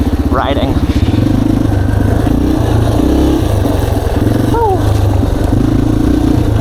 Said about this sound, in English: This bike could sound good if you put like a full FMF on it